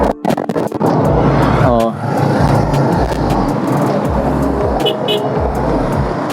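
Dense road traffic heard from inside a moving vehicle in heavy congestion near a bridge approach, a steady engine and tire rumble with passing vehicles, and a brief voice over it.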